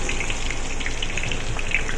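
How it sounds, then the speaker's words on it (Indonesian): Sliced onions sautéing in a pan produce a continuous close hiss with fine spattering crackles throughout, steady and fairly loud with no voices over it. "Ditumis bawang ni sampai ke perangan."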